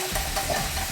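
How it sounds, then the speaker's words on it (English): Close, continuous wet swishing as a whisk stirs a milky cheese sauce for homemade mac and cheese, brief and steady. "whisk it again"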